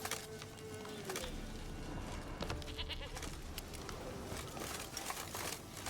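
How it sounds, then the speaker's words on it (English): A goat bleats in The Witcher 3: Wild Hunt, standing out against a dense, steady game soundscape of ambient noise and scattered clicks; the cry rises clearly above the background rather than sounding faint. "I hear a goat."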